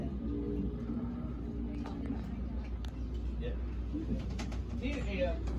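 Pigeons or doves coo repeatedly near a boat in Costa Rica, low and fairly close, under a steady hum of engine or water noise while people talk nearby.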